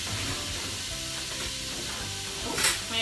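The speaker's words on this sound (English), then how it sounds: "Now we're just going to fry that off a little bit, just until it goes a bit soft." Vegetables for a bolognese fry in a hot pan, giving off a steady, close sizzle and hiss that carries through the whole stretch, with a brief stir or clatter near the end and no talking.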